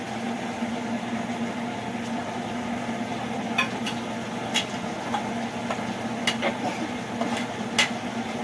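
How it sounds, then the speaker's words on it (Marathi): Chopped coriander is stirred into a spiced potato vada filling in a pan, a soft continuous sizzle with scattered light scraping and clicking of a spoon against the pan, close and fairly quiet. "आता त्यामध्ये कोथिंबीर टाकते आणि मिक्स करून घेते."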